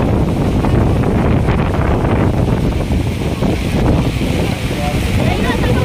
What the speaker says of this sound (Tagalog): Hala, grabe, lakas ng hangin.